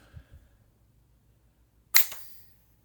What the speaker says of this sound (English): Had a nice crisp bolt activation.